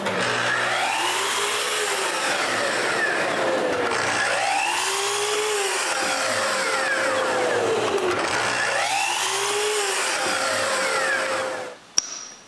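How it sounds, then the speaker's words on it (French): A plug-cutter bit in a drill bores wooden dowel lengths, the motor whining in three long rising-and-falling cycles as the bit loads and eases, loud and close, ending with a sharp click and the motor stopping. "Ensuite, avec une mèche de corderon, je fais des longueurs de goujons."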